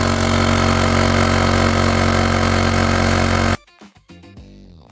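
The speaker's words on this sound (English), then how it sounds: "go ahead and start the pump" Portable electric tire inflator pump running with a loud, dense, steady mechanical buzz that cuts off abruptly after about three and a half seconds, then falls quiet.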